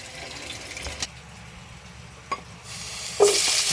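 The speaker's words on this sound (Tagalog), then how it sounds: "nagisa po muna ng hipon para po mabango" River shrimp sautéing in a pan with chili, onion, garlic and ginger for a coconut-milk santol dish, giving a soft steady sizzle with a few sharp stirring clacks and a louder burst of frying near the end.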